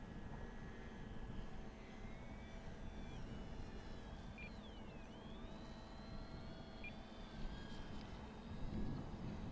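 A small E-flite UMX Air Tractor radio-controlled plane flies overhead, its faint electric motor whine rising and falling in pitch as it turns, over steady outdoor background noise without talk.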